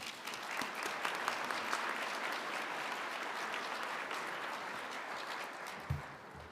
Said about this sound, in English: So please join me in a round of applause for our 2021 Best Companies to Work For.